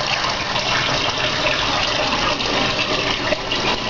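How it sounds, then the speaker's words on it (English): Water runs steadily into a pot of chicken and pasta soup, a continuous splashing, gurgling pour that stays loud and close throughout, with no talking. "Then add some more water."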